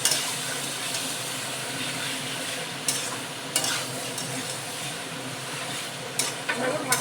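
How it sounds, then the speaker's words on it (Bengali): Spices frying and being stirred in a pan for chicken curry, a continuous dense sizzle with a few sharp scrapes and knocks of the spoon, close and steady throughout. "মশলা ভালো করে কষিয়ে নিচ্ছি"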